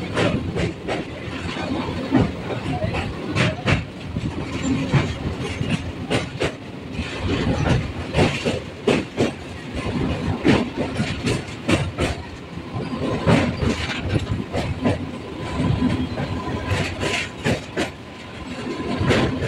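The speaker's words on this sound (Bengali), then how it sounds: "আমাদের ট্রেনের মাথা কোলাঘাট ব্রিজে প্রবেশ করে গেল।" A local train on the Howrah–Panskura line rolls onto the Kolaghat rail bridge over the Rupnarayan river, with steady rumbling and rhythmic clickety-clack of wheels on rail joints, heard from on board and continuing loudly throughout.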